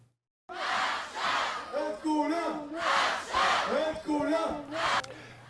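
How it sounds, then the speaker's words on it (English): A large crowd at a rally outside the Knesset chants a slogan in unison, loud, rhythmic repeated phrases rising and falling in waves of massed voices after a short silent start. "Crowds rallied outside the Knesset on Thursday, waving Israeli flags and chanting, "We want them alive.""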